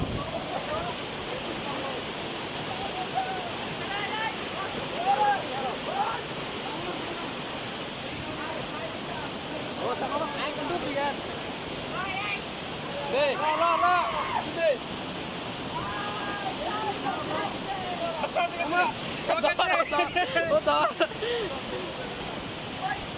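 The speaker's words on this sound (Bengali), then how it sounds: "ঝর্ণাতে গোসল করার মজাটাই আলাদা" Khoiyachhora waterfall in Chittagong roars steadily while people bathe in it, with a broad rush of falling water and occasional splashes. Voices talk over the constant noise.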